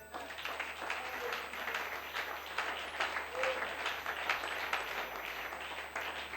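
Congregation applauding for the Lord during a French-language church service, a steady wash of many hands clapping at moderate loudness through the whole stretch, with a busy room murmur underneath.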